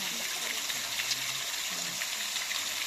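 A small stream of water runs steadily at Paladhara Panchadhara in Srisailam, a continuous close hiss of flowing water with no break across the whole stretch.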